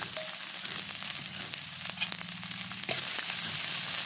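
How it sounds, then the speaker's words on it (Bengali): Chopped onion and green chilli frying in hot mustard oil: a steady, close sizzle with light crackles and a few soft stirring scrapes, no speech. "তেল গরম হয়ে এসেছে, এখানে আমি লঙ্কা কুচি আর পেঁয়াজ কুচি দিয়ে দিয়েছি।"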